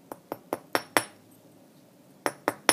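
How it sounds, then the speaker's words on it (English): Sharp metallic taps of a hammer on sterling silver against a steel block: five quick strikes, a short pause, then three more, close and ringing. "I'm just going to hammer them to where I think they look right."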